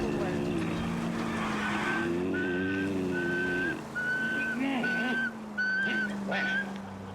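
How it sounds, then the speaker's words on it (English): Whistled melody from a character in the video game L.A. Noire, a run of short bright rising notes repeated in phrases, close and clear over a low droning background and brief speech. "You're whistling."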